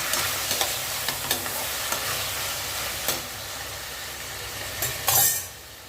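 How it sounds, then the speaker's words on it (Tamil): Garden eggplant sautés in a pan for a tamarind and raw-mango curry, with a constant frying sizzle under repeated scraping stir strokes and a louder burst of sizzle near the end. "இது நல்லா வதங்கட்டும் பார்க்கலாம்."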